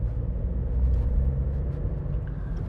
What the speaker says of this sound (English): Off we go, the little 3-cylinder engine